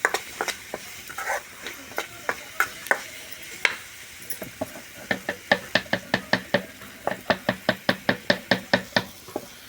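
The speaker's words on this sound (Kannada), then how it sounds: "ನೋಡಿ, ಹೀಗೆ ಹುರ್ಕೊಳ್ತಿದ್ದಾರೆ" Vegetable palya being stirred and fried in a pan on a wood-fired stove, with a steady series of sharp spoon scrapes and knocks against the pan over a faint sizzle, speeding into a quick regular rhythm toward the end.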